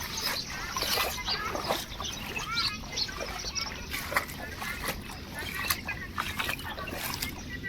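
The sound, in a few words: flood water flowing through the village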